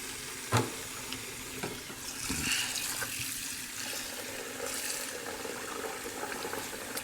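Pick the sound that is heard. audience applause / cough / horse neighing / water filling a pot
water filling a pot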